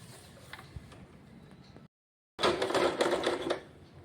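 Sewing machine stitching a blouse: rapid mechanical clatter runs close up, breaks off for a brief silent gap, then resumes louder and denser for about a second.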